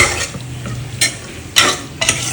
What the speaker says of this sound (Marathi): कोळंबी चांगली मिक्स करायची याच्यामध्ये. 2-3 मिनिटे परतून घ्यायचे.